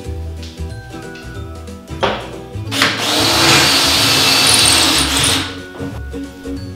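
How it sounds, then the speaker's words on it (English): A power drill whirs loudly into a wall for a few seconds, drilling pilot holes for a TV wall mount, preceded and followed by lighter clinks and handling noises. "so you want pre-drill your holes"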